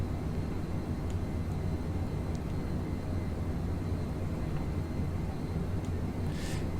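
Steady, even roar of a Eurofighter Typhoon jet engine in Microsoft Flight Simulator at supersonic speed while climbing, a constant broadband rumble with a faint brief tone near the end and no voices.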